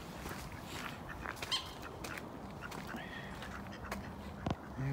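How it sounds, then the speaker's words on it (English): Ducks on a pond in Hylands Park give a few faint, scattered quacks over a soft outdoor background. "There's a pond just ahead here. With the duckies on it."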